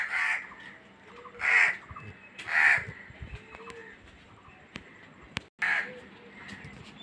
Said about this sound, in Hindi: देखा, चुप हो गया ना कौवा।